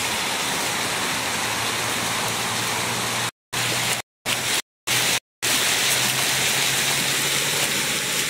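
A water fountain gushes in a steady loud hiss of falling and splashing water, close by, with several abrupt dropouts of complete silence in the middle before the rush continues.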